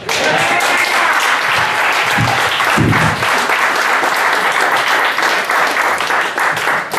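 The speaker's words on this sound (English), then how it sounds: "keep it going for David Graham" A crowd applauds loudly and steadily, dense clapping filling the room from start to finish, with a few faint voices and cheers mixed in.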